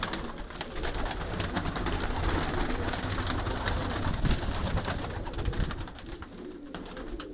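Pigeons in newly built lofts coo softly and continuously, several birds close by, with a light rustle of wings and background noise; no one speaks.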